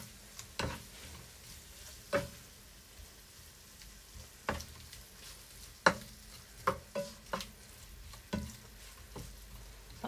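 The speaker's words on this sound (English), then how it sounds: "I'm just going to mix this up so that it covers everything with that miso sauce." Tofu in miso sauce being stirred and fried in a pan: scattered scraping taps of a utensil against the pan, some sharp and some soft, over a quiet, faint steady sizzle, with no talking.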